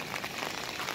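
Rain pours heavily at night on an empty street, a dense even wash of drops hitting the ground close by with no gaps.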